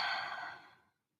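A single soft, breathy exhale during guided breathing, close to the listener and fading out in about a second.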